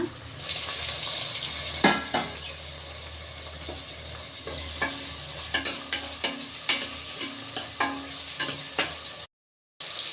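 Tomatoes fry with onions in a pan for spicy mutton curry, a constant close sizzle broken by repeated sharp spatula scrapes and stirring knocks, with one brief drop to silence near the end.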